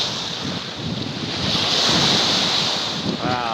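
Gale-force wind roars across Coldwater Lake near Mount St. Helens, Washington, with waves surging and breaking in a continuous loud, blustery wash and heavy wind buffeting close to the microphone.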